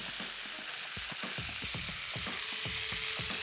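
Marinated skirt steak sears in a hot pan, a steady broadband sizzle with irregular spatters and pops, close and fairly loud, with no one talking.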